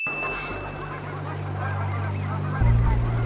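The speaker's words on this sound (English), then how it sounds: "Those are not boys, those are birds." Birds honk repeatedly over a constant, noisy outdoor background, and the honks grow louder and closer toward the end, with no voices present.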